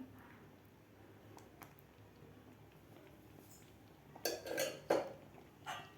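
A spoon scrapes and clinks against a pot of wheat kheer. Quiet, sparse taps come first, then a short burst of louder stirring knocks near the end, with no speech.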